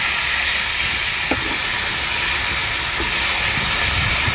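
A hot wok of seafood (octopus, sea snails, mantis shrimp and starfish) fried with scallion, ginger and garlic gives off a loud, steady steamy hiss as soy sauce goes in, with a couple of faint clinks.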